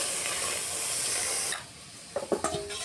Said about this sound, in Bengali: ছাঁকা টমেটোটা আমি দিয়ে দিলাম কড়াইতে।